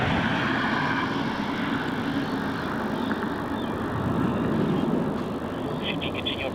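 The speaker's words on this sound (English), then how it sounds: "we have a little Dash 8. This is going to be Qantas Link at 2050 from Devonport, Tasmania" A Qantas Link Dash 8 turboprop lands on runway 34, giving a steady broadband engine roar that holds at constant loudness through the whole stretch, with a faint higher whine above it.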